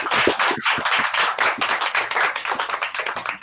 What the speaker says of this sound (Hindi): तो बिल्कुल उसके लिए सर का जोरदार ताली से स्वागत